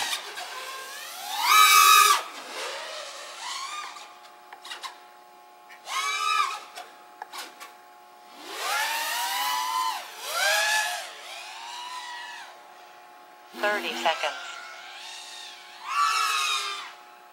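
FPV quadcopter drone motors in flight, heard as repeated high whining bursts that rise and fall in pitch with throttle punches, separated by quieter gaps.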